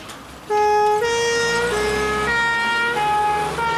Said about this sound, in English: follow that ambulance